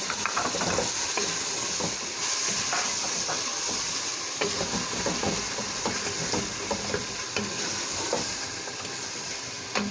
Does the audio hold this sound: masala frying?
yes